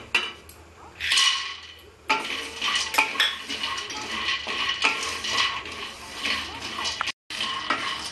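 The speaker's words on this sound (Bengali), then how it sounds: "আমি বড়িটা শুকনো মানে কড়াইতে আগে নেড়ে নিয়েছি" Dried lentil dumplings are stirred in a dry wok, the spatula scraping and clinking against the metal in a busy, continuous rattle with brief pauses, close and fairly loud.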